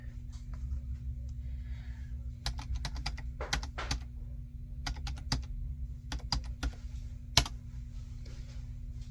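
Keys tapped on a computer keyboard while a book listing is entered, a close run of crisp clicks in uneven bursts and pauses, with no voices.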